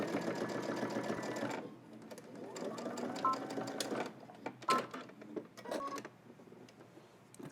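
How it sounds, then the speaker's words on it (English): A home sewing machine top stitching a zipper hoodie, close and fairly quiet, running in short rapid bursts with pauses between runs. "now I'm doing a second row of top stitching a 1/4 inch away from that one"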